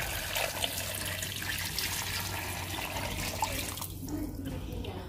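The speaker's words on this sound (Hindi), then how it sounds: "अब मैं इसमें शामिल करूंगी 1 जग पानी का" A jug of water poured into a cooking pot for gajar ka murabba gives a steady, close, continuous splashing rush that runs several seconds and eases slightly near the end.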